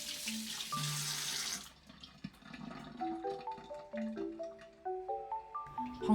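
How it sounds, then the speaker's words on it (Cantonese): Clean water is poured over washed yacon to soak it for soup, a brief close splashing rush that stops and gives way to soft melodic music. "洗乾淨之後，就加入清水浸佢15分鐘。"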